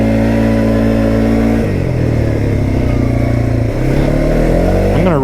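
A Kymco Maxxer 450i ATV with a 450cc engine and CVT drive revs hard while being ridden, a loud, close, steady drone that drops in pitch twice and climbs again, with no talking.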